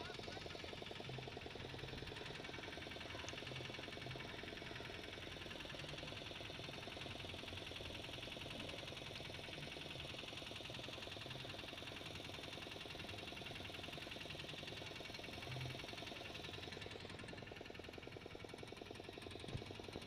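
Fishing boat engine running steadily while the boat cruises empty among sardine boats at sea, a continuous close, loud low knocking drone with constant vibration throughout and no pauses.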